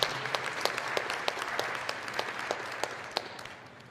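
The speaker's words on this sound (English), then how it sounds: "Maybe give them a round of applause" Applause from a student recognition banquet audience, a fairly sparse, quiet patter of scattered claps with sharper individual hand strikes, gradually fading toward the end.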